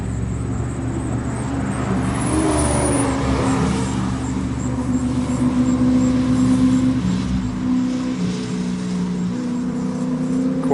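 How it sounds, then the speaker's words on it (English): Race cars, including a Corvette and a black Porsche, driving down a track, heard as a steady engine drone with a rising pass around the middle, continuous and moderately loud. "See if we can't see some cars coming down the track here."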